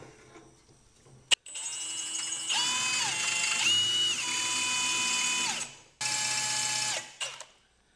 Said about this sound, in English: I'm just going to try to drill them out.